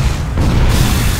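A loud, booming explosion as a barricade is destroyed in Unreal Tournament 3 Warfare mode, a dense low rumble sustained for just over a second with no gaps.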